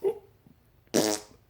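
A short, loud, buzzy fart bursts out close by after a brief quiet moment, lasting about a quarter second before fading.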